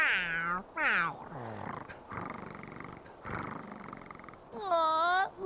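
Gary the snail from SpongeBob: The Cosmic Shake gives several meows, drawn-out and tonal, with a breathy purring rumble between the closer, louder calls.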